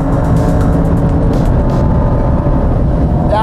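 A Jaguar street race car engine running loud and close, a steady deep droning roar with rich low rumble that holds continuously, with a brief higher swell near the end.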